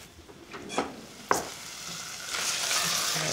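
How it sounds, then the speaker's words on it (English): Lamb kofta sizzles in a pan, with a few stirring clanks early on before the frying hiss swells louder and steadier. "I can hear that it's starting to warm through and it's starting to sizzle."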